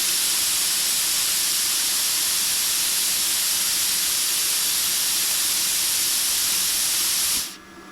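A plasma cutter fed by an air compressor set around 125 psi gives off a loud, steady hiss of rushing air. The hiss runs unbroken for about seven seconds and then cuts off abruptly.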